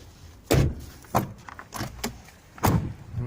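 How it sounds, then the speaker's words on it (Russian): A door on a VAZ car being shut, several thuds in a row: a sharp loud slam, then softer knocks and rattles, and a final heavy thud, all close by with no talking. "Закрываем дверь"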